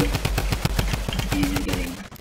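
Rapid automatic gunfire in Fortnite Battle Royale, a fast regular burst of close shots lasting about two seconds before trailing off, with faint tonal game sounds beneath.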